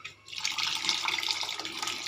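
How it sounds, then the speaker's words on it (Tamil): Water poured over tamarind to dissolve it for a pomfret fish curry, a close, steady splashing pour that starts after a brief pause and runs on evenly to the end. "புளியை கரைச்சி தண்ணி ஊற்றிக்கலாம்."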